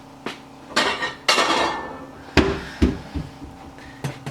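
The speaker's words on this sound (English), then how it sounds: "I'm actually going to grab a bowl real quick." A bowl is grabbed and set down on a kitchen counter beside the stove, giving several sharp, close knocks and clatters spaced irregularly over a few seconds, with no talking.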